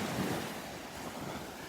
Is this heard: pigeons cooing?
no